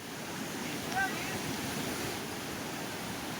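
Floodwater of the Ojat river near a breached embankment in Junagadh, Gujarat, rushes as a steady broadband roar, with wind buffeting the microphone and a brief faint tone near the start.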